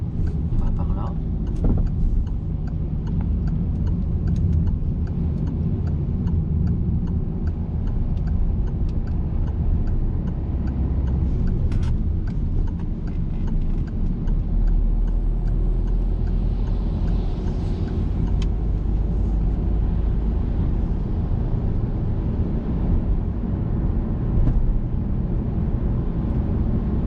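A car is driven during a learner's driving lesson as the accelerator is released, then the car pulls away again. The engine and road noise hum steadily inside the cabin, with a deeper rumble swelling partway through.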